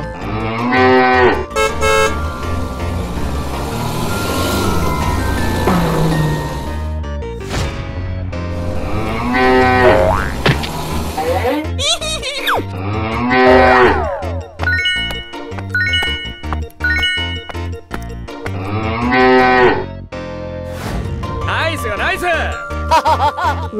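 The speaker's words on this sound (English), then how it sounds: "Cow." A cow moos repeatedly amid a busy cartoon-style soundtrack with jingling music, the lowing calls loud and drawn out, mixed with a voice naming animals.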